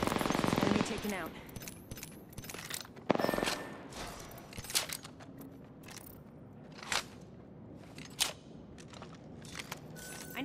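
Bursts of automatic fire in a video game firefight, a heavy loud volley at the start followed by scattered sharp shots and short bursts, with player voices calling out in between.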